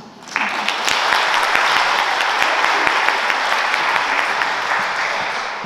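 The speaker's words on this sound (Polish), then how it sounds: "Brawa dla babci i dziadków tych młodych muzyków." Loud, sustained applause from an audience at an academic year inauguration, greeting young musicians' grandparents; dense clapping swells in quickly and holds evenly before easing slightly at the end, with no voices over it.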